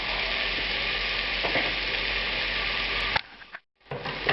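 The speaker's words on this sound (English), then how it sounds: "I'm going to add about an ounce of vegetable oil and the apple" Apple pieces fry in an ounce of vegetable oil in a hot pan, a loud steady sizzle running unbroken for about three seconds before cutting out abruptly, then returning more faintly.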